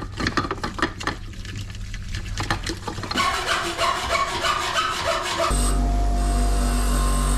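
A brush scrubs inside the lower leg of a Fox 38 Factory mountain bike fork, giving a steady rasping, rubbing sound that grows denser and louder partway through. It ends in a smoother, even whir with no talking.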